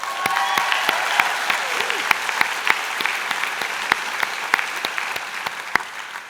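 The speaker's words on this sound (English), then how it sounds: "Give yourselves a round of applause." Applause from graduates at a Mohawk College convocation ceremony, a steady wash of many hands clapping with sharp individual claps popping out, sustained throughout at moderate volume with no speech.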